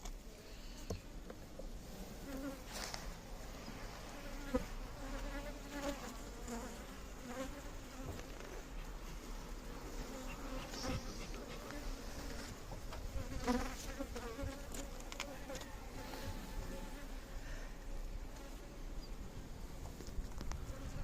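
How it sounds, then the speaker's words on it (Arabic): A dense swarm of honeybees hums steadily and continuously during a beehive inspection at the end of January, close and even throughout, with faint handling noises now and then and no voices. "اخر شهر يناير 2024 هنفحص النحل، والخلية لو محتاجة برواز بنديها."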